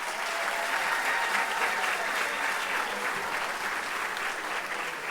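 A high school audience at a varsity awards ceremony applauds student athletes, steady dense clapping from a crowd sustained evenly for the full stretch at moderate distance.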